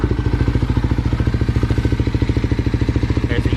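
A Kawasaki KLX351 motorcycle engine with newly installed fuel injection idles steadily near 1500 RPM, a close, even mechanical chugging pulse with a rattling clatter.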